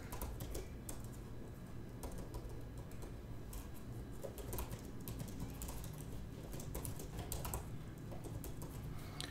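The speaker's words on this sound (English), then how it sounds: "we'll just try to do some typing here" Steady typing on a ZAGG Pocket Bluetooth keyboard, soft rapid key clicks continuing throughout at a moderate distance, no voices.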